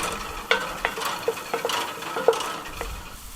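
Beef stroganoff in a Dutch oven is stirred after mustard is added, a spoon knocking and scraping against the pot in a handful of distinct clinks over a soft simmering background, with no talking.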